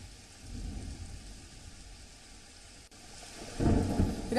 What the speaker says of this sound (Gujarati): રાજકોટના ગોંડલમાં આજે પણ વરસાદ ગોંડલ પંથકમાં વરસી રહ્યો છે